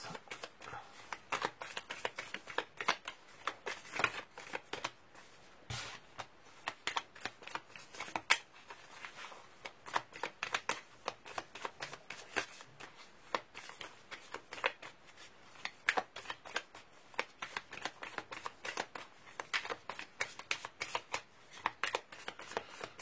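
Tarot cards are shuffled and riffled continuously for over twenty seconds, giving a steady stream of soft, close papery flicks and slaps at a moderate level.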